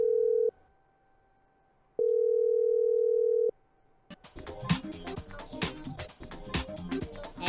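Telephone ringback tones while calling someone, two loud steady beeps separated by a pause, followed by a noisy burst of sound.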